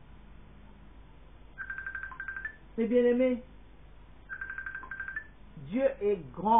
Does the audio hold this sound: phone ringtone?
yes